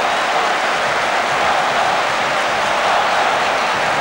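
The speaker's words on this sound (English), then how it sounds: "And the applause already ringing around the stadium." Stadium crowd at an FC Porto v AC Milan football match, a broad, steady wash of applause and crowd roar filling the whole stretch, loud and sustained with no pauses.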